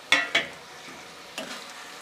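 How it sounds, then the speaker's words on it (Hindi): Peeled boiled tomatoes dropped into a pan of frying onions for matar paneer, giving two sharp sizzling splashes, then soft frying and a later burst of stirring, close and fairly quiet. "और अब ये जो उबले हुए टमाटर थे, इनका मैंने छिलका उतार दिया है, और इसको अब हम इसके अंदर डाल देंगे"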